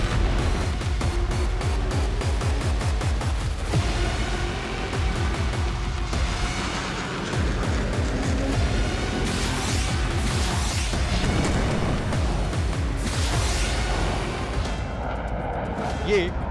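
Gunfire and artillery fire in an eastern Ukraine war zone: dense, continuous bursts of shots and booms rolling through the whole stretch. A voice is faintly audible beneath the din.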